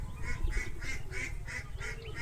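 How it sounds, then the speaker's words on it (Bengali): Ducks in a village area quack in a quick run of about seven regular, nasal calls, fairly close and moderately loud, with no talk. "আমরা হাঁসগুলো দেখাইতেছি।"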